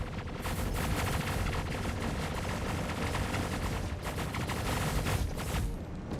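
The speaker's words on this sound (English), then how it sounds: "Now let's go do some shooting." Dense, continuous gunfire from a Star Citizen firefight, rapid overlapping shots and blasts sustained loudly throughout with no talking.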